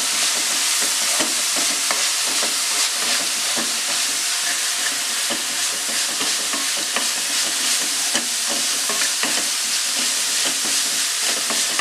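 Onions, with pepper and chili powder, being stirred and sautéed in a pan for jackfruit cutlets, a steady loud sizzle broken by frequent scraping taps of the spoon.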